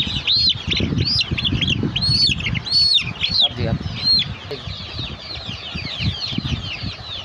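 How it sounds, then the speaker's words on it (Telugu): Small and large Asil chickens call in repeated high, rising chirps and flap their wings while being weighed, close and busy for the first few seconds and then thinning into quieter calls. "ఇప్పుడు మనం అసీలు జాతికి సంబంధించి చిన్న కోళ్ళు, పెద్ద కోళ్ళు ఇప్పుడు వెయిట్ చూస్తున్నాం"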